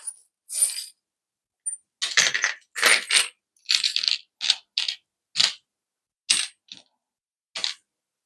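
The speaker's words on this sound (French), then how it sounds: "aujourd'hui, je vais prendre mes breloques." Small metal charms jingle and clink as they are picked up and handled, making a string of short, bright, separate rattles spaced irregularly and heard up close in an otherwise quiet room, with no voices.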